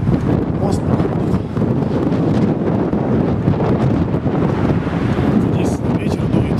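Strong, steady wind under a bridge in Croatia, roaring and buffeting the microphone, a constant low rumble with gusty texture throughout.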